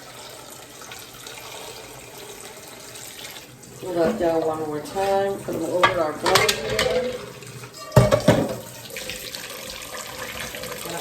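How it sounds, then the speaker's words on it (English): Hot boiled eggs drained and rinsed under running cold water at a kitchen sink, with splashing and the clatter of a pot, water pouring loudly in bursts between spoken instructions. "And we're going to drain all that. And then we're going to put them right into cold water."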